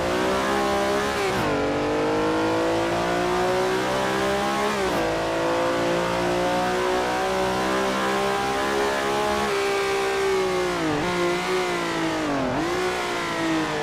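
A historic 1960s sportscar races in the Assetto Corsa game, its engine droning loud and continuous. The pitch rises steadily through each gear, drops sharply at a few shifts, then climbs again.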